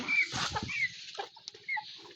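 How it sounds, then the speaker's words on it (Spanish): Hens clucking inside a small farmyard henhouse, several birds giving short, uneven calls and squawks, fairly close and moderately loud, with a brief louder burst near the start and scattered softer clucks after it. "Este es nuestro humilde gallinero. Les presento a mis gallinas."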